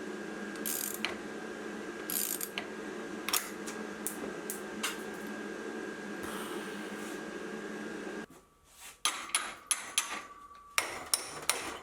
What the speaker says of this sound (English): I'll drive a screw or a bolt, and that should push against the center pin and push the gear off